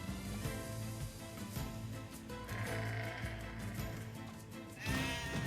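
Sheep in Nier Replicant bleat repeatedly in a video game scene, several drawn-out calls over quiet background sound, the last one louder and closer.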